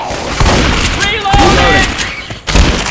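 Shotgun blasts in the video game Left 4 Dead 2, a few loud booming shots with clattering impacts, mixed under characters talking and in-game background noise.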